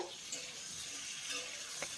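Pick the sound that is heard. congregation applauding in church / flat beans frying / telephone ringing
flat beans frying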